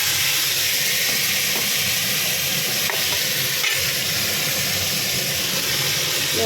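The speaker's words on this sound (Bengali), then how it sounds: "এবার তেলের মধ্যে এই আলুগুলো আবার দিয়ে দেবো। আলুগুলো একটু ভেজে নেবো।" Potatoes fry in hot oil after jackfruit was cooked in it, giving a loud, dense, continuous sizzle close by with faint stirring, and no voices.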